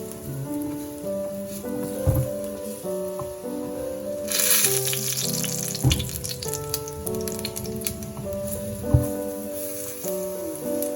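Lentil fritters fry in hot oil with a continuous bubbling crackle and a brief louder surge midway, partly masked by background music playing throughout.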